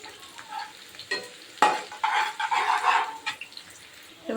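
Onions frying to golden brown while being stirred for a bhindi dish, with a crackling sizzle that swells in the middle under scraping spoon strokes, then eases off.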